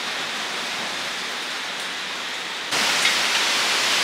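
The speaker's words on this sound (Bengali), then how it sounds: "যত রাত হচ্ছে ঝড় যেন বাড়ছে, কি যে ভয় লাগছে, তার সঙ্গে সঙ্গে বৃষ্টিও হচ্ছে" Cyclone Remal storm wind and rain heard at night, a dense steady hiss of downpour and gusts that suddenly grows louder and brighter partway through.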